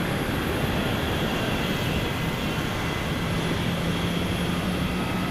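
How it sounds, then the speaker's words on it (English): Airplane passing in the video game 428 Shibuya Scramble, a steady broad roar that holds loud and even for the whole stretch, with a faint low drone joining near the end; no one talks. "That's a plane."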